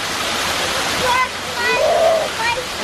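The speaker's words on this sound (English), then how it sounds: "Let me try to get you some shots of the waterfall and the kids." Wildcat Branch waterfall roars steadily up close, a dense continuous rush of falling mountain water, while children's voices and talk rise over it.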